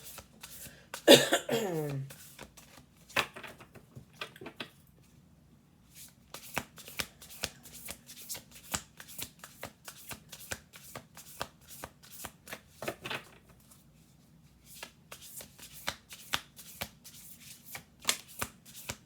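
Crow oracle cards shuffled by hand at a table: intermittent bursts of soft, papery riffling and tapping spread over the stretch, close and quiet, with a cough near the start and occasional pauses.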